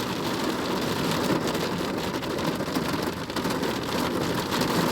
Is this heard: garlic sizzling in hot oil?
no